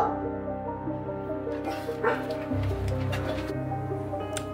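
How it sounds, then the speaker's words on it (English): Dogs bark and yip outdoors near a tent, at moderate distance, in scattered short bursts over a steady background hum, with no talking. "The dogs are here. Barking at anything and everything that they can find."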